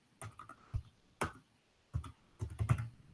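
Computer keyboard keys tapped in short separate bursts at a desk, a few quick clicks, then a pause, then a denser run of keystrokes, close and fairly quiet, with no talking.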